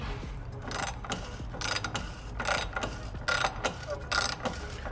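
Lightweight bolt on a Bugatti Veyron being unscrewed, giving a repeated ratcheting, clicking mechanical sound in uneven bursts, close up and moderately loud.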